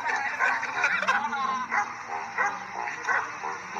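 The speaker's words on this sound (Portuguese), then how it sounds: "Música do cachorro." A dog barks and yips repeatedly in a music clip played back over a speaker, with rhythmic yelping barks set against a musical backing and voices faintly mixed in.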